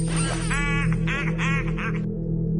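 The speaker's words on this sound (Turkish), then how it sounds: "Ördek vızıltısı duydum. Ördekler vızıldıyor." A video game duck in Squidward Shadows quacks about five times in quick, nasal bursts over a steady electronic hum, then falls silent.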